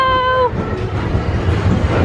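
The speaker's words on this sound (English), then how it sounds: "Our train's about to come in." A theme park mine train on the Big Thunder ride rolls into the station at Magic Kingdom, Walt Disney World, opening with a short tonal horn or whistle, then a loud, close rumbling clatter of wheels.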